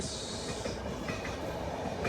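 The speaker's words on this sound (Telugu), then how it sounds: "జన్మభూమి అనేది ఎక్సలెంట్ ట్రైన్" The Janmabhoomi Express runs along the rails with a loud, continuous roar and faint rhythmic clatter of the wheels, heard up close.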